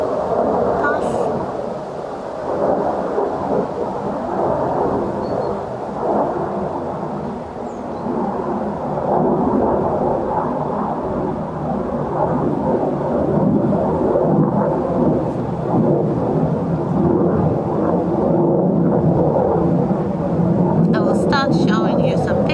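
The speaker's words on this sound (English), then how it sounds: "A plane passing." A low, rumbling airplane passing overhead outside, a steady broadband roar that swells and lingers for over twenty seconds while a person talks over it.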